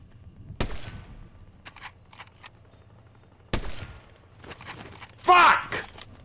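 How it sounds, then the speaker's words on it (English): Gunfire in the video game Fortnite: a few sharp, separated shots and short bursts crack out over a quiet background, with a louder burst near the end and a player's voice briefly present. "I'm getting shot at."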